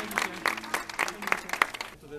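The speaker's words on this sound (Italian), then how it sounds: "Facciamo ancora un applauso agli sposi." Wedding guests break into applause for the bride and groom, a loose patter of clapping that runs steadily for a couple of seconds beneath a voice speaking.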